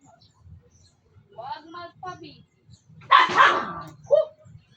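A dog barks a couple of times nearby, with a person talking quietly around the barks.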